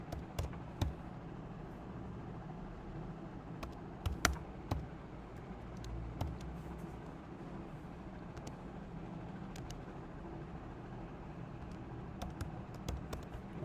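Sporadic keystrokes on a computer keyboard, scattered soft clicks in small bursts with long gaps, over a constant low hum of room or machine noise, fairly quiet and without speech.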